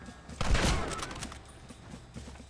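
Gunfire in the Western video game Red Dead Redemption during an assault on a gate: a loud burst of shots at the start gives way to scattered, quieter pops and thuds over a steady background din.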